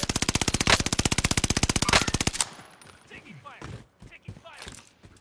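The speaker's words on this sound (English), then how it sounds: "Taking fire." Rapid automatic gunfire from a Call of Duty Warzone match on the Caldera map, a loud, fast, steady burst lasting over two seconds, then dying away into quieter scattered game noise and voices.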